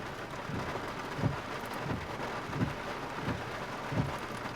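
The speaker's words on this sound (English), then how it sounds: "I cannot believe it's raining this hard." Heavy rain falls as a steady, fairly quiet hiss, with soft rhythmic thumps recurring about every second and a half, likely drops or water hitting a nearby surface, and no voices.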